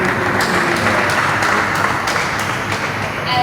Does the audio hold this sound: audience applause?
yes